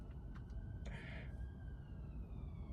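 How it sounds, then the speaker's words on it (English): Faint, distant sirens wail near a motorway, a thin rising and falling tone drifting over low road rumble with brief clatters, far off and quiet throughout. "I can hear some sirens."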